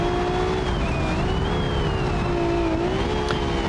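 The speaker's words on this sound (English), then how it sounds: "the sound of the turbo is lovely" A Formula Three race car's turbocharged engine at the Chinese Grand Prix holds a loud, steady whine with slowly wavering pitch, running continuously with no pause.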